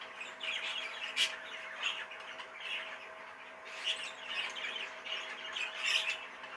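A budgie squawks and chirps in bursts of harsh, high calls over about six seconds, fairly close and alone against a steady background hum.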